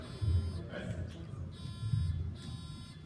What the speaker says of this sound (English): you want to check your buzzers?